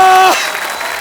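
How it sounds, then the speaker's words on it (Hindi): A studio audience at The Kapil Sharma Show comedy taping bursts into brief, loud applause just as a voice trails off, and the clapping carries on to the end. "एक बार जोरदार तालियां बच्चा के लिए"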